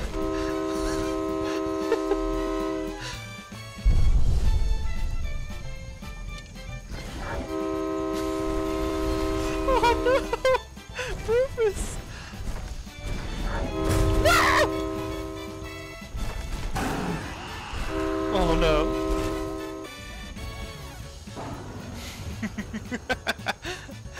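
A Thomas the Train sound in the video game Skyrim: a sustained, tonal train horn toots repeatedly in long blasts with rumbling gaps between, fairly prominent, with brief speech breaking in.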